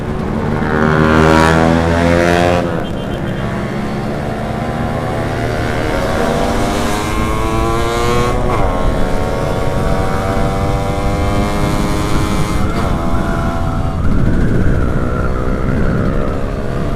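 Loud, close Yamaha F1ZR two-stroke motorcycle at high speed on a straight night road, its engine note rising and falling through gear changes with strong harmonic whine, wind rush throughout, no voices.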